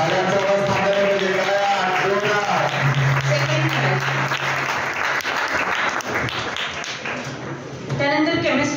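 An audience at a college science club celebration for Albert Einstein's birthday applauds prize winners with loud, sustained clapping that fills the whole stretch, with voices mixed in.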